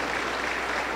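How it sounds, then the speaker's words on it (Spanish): Congregation clapping during a church service, a steady wash of applause throughout the brief moment with no speech on top. "Un aplauso para el Señor Jesús"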